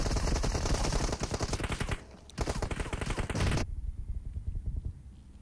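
Rapid automatic gunfire in PUBG Mobile comes in loud, close, sustained bursts with a short pause partway through, then stops abruptly, leaving only faint background noise.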